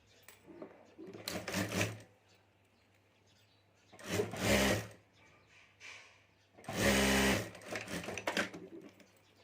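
Sewing machine stitching a zipper onto a homemade handbag, running in three separate bursts of rapid stitching, each roughly a second long, with quiet pauses between them.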